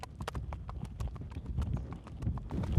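Hooves of a horse under saddle clip-clop in a steady, even rhythm on a slightly downhill path, close and fairly loud, with the beat hinting at a shift toward a pacier gait.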